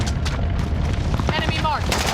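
Rapid bursts of video-game gunfire crackle continuously alongside ambient battle noise, with faint background voices and a brief whistling sweep near the end.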